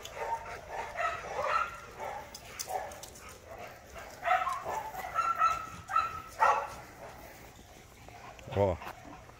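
Neighbour's dogs bark repeatedly in scattered bursts with whimpering yips over about nine seconds, mixed with people talking nearby and a dog jumping around with them.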